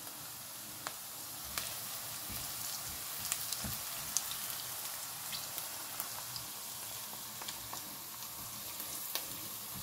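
Onion and spice masala frying in a pan for a black gram dal, a soft continuous sizzle with scattered pops and crackles, steady and fairly quiet, with no voices.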